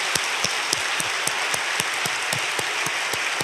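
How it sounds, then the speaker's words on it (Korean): A church congregation applauds to welcome first-time visitors at a Sunday worship service, the clapping steady and fairly loud from a gathered crowd with sharp individual claps standing out. "우리의 마음을 담아 진심으로 박수로 환영하도록 하겠습니다"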